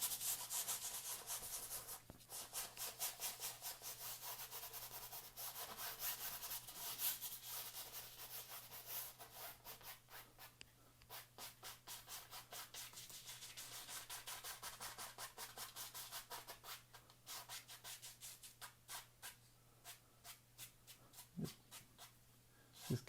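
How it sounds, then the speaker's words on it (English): A paintbrush scrubs Prussian blue oil paint over white on canvas, a faint, quiet rhythmic rasping of bristles in steady repeated strokes, close up with no talk. "Just scrub that in on top of the white, let it mix right there on the canvas."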